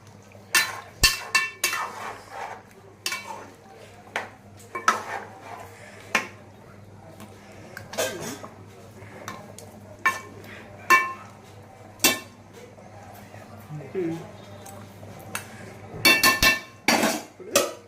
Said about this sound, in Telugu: ఇదంతా మసాలా అనమాట అల్లం వెల్లుల్లి అన్నీ కలిపెట్టాం కదా అది ఇప్పుడు ఒకసారి అంతా ఇలా ఒకసారి కలుపుకోవాలి